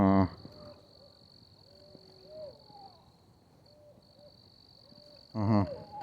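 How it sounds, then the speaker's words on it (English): An owl hoots at night from somewhere away from the listener, soft low calls repeating at intervals over a constant high insect whine, with louder bursts of nearby voice at the start and end. "There's an owl over there."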